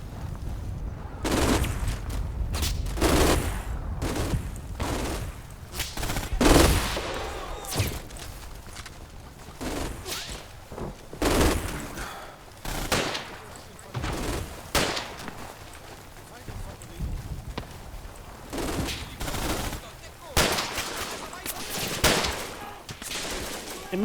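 Gunfire crackles in the wargame Combat Mission Final Blitzkrieg, with repeated bursts of rifle and machine gun shots in irregular clusters over about twenty seconds, some louder and closer than others.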